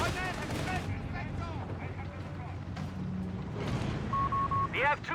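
Grenade explosions and gunfire in the World War II strategy game Company of Heroes 3: rattling shots and dull blasts crackle steadily at mid distance, mixed with in-game voices and battlefield chatter.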